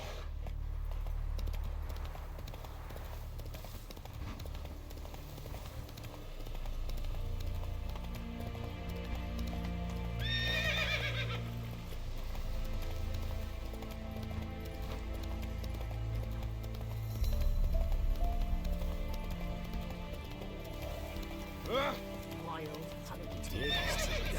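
A horse gallops in The Witcher 3: a steady rhythmic clip-clop of hooves runs throughout beneath game music, with a couple of neighs and spoken lines partway through.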